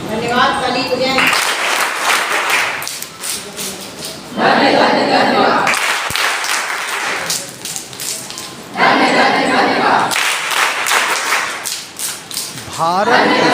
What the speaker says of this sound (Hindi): सभी हाथों पर धन्यवाद, ताली बजाएं।